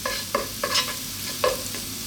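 Garlic frying gently in olive oil on low heat for spaghetti aglio e olio, a soft close sizzle with a few brief scraping stirs at uneven intervals.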